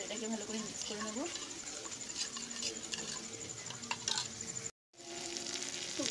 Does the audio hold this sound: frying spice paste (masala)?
yes